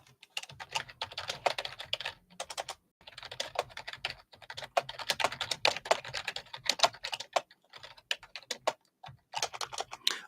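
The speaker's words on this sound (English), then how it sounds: "I'm typing in the chat." Rapid clicking of someone typing on a computer keyboard in bursts, with short pauses between flurries of keystrokes, close and clear.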